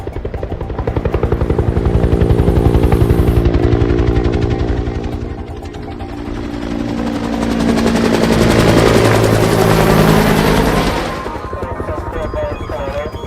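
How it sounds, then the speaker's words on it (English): A helicopter's rotor beats loudly and continuously as it passes overhead, swelling and fading in a dense rhythmic chop with no talk over it. "Who's the cowboy in the chopper?"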